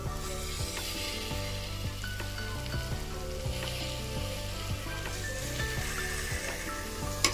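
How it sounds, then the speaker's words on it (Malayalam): Washed mutton and tomatoes frying in a pan, giving a steady, close sizzle with a few stirring scrapes over it, no voices. "കഴുകി വൃത്തിയാക്കി വെച്ച മട്ടൺ ഇതിലേക്ക് ചേർക്കുവാണ്."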